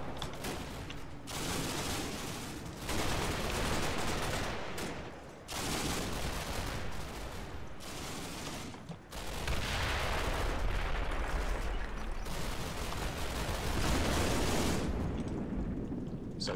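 Heavy sustained gunfire and artillery-like blasts from a war video game, dense overlapping bursts rolling on without pause for the whole stretch, loud and close with no talking.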